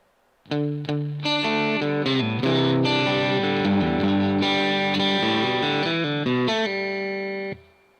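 Electric guitar with distortion and chorus effects plays an intro lick, a clean run of picked single notes and ringing chords lasting several seconds, close and alone with no talking.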